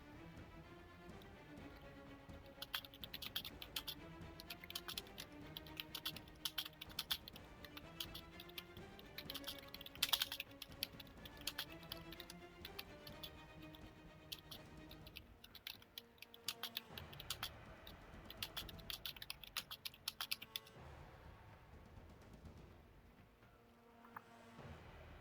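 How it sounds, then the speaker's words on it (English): Someone types on a computer keyboard, with dense irregular key clicks in bursts running for about twenty seconds before thinning out, heard close under faint background sound and with no speech. "just give me 1 second. I'm typing stuff."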